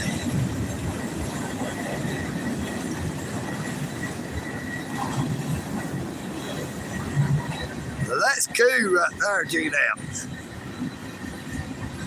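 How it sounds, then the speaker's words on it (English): Clean, graffiti-free trains roll past, a steady low rumble with squealing wheels and rattling bursts toward the end, while someone talks over the top. "Oh, we got some clean trains coming here."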